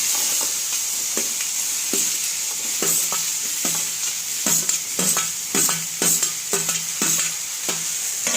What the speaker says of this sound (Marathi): भेंडी टाकून झाल्यानंतर व्यवस्थित त्याला हलवून घ्यायचं